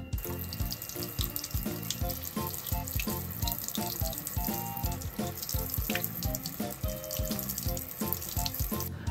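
Waterproof IPX7 boco PEACE SS-1 bone conduction earphones are rinsed under a running tap, producing a steady, close gush of water splashing into a sink throughout.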